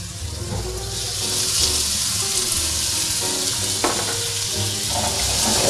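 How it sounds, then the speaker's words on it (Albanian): Chicken fillet pieces and mushrooms frying in oil in a pan, a steady close sizzle running throughout with faint utensil clinks and stirring sounds. "Pasi ngrohet voji mirë, edhe copat që preme, filetës puls"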